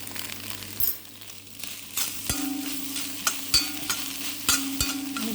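Egg thoran fries in a pan with black pepper, a soft sizzle beneath repeated sharp scrapes and knocks of a spoon stirring, close and fairly quiet.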